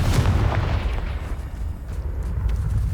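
A Confringo fire spell blast in the video game Hogwarts Legacy erupts as a heavy, rumbling explosive boom with crackling bursts that fade over a few seconds.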